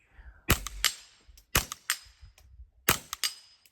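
A rifle fitted with a .22 AR upper fires in three quick clusters of sharp cracks, two or three shots each, loud and close with short gaps between.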